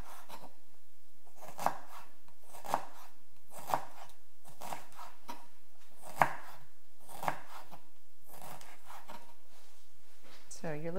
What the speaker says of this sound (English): what I'll do is I'll julienne it really thin